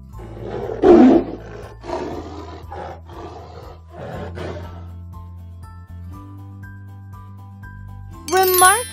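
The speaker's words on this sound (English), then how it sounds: "Tiger." Alphabet learning toy playing a recorded tiger roar: a series of loud growling roar bursts near the speaker, followed by a sustained electronic tone and a bright jingling chime at the end.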